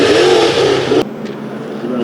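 Street stock race cars in a heat race at Santa Maria Speedway, a dense loud roar of engines revving that cuts off abruptly halfway, leaving a quieter engine drone.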